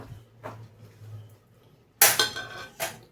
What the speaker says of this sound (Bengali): এই মোজেরেলা চিজটা একটু কেটে নেব এটাকে ছ টুকরো করে নিলাম